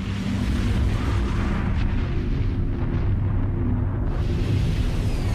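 A terrible explosion as a Pan Am Boeing airliner is struck on the runway: a loud, continuous deep rumbling roar that holds steady throughout, with no voices.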